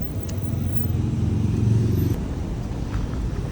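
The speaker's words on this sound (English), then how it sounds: "A lot of cars now." Cars pass along a road in a low, continuous rumble of engines and tyres that swells a little midway and then fades, moderately close and with no talking over it.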